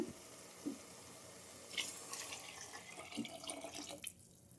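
Water runs steadily into a cooking pot of rice-and-lentil bele bath with masala, a continuous close splashing stream with a few small clinks, stopping just before the end.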